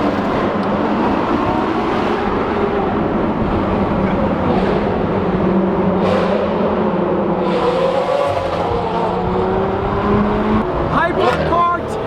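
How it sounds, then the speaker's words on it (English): A Lamborghini Aventador SV Roadster driving ahead toward a tunnel, a steady loud engine drone with road roar heard from a following car, rising slightly near the end. "we are following an Aventador SV Roadster"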